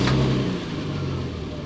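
A high-mileage Toyota 2JZ engine, freshly serviced with new plugs and oil, runs at a loud, steady level with a deep, even rumble close by, holding throughout with a slight swell at the start and no talking.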